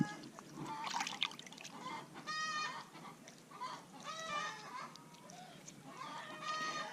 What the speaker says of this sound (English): I think Bill did something back there and scared the chickens